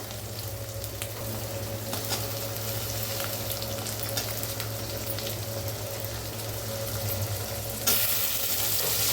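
Tomatoes frying together with onions in a pan, a steady close sizzle running throughout with a faint stir near the end and no talking.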